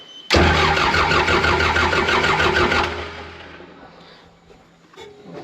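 The engine of a John Deere military dozer cranks loudly and close with a rapid rhythmic churn for a few seconds without catching, then the sound fades into quiet rustling.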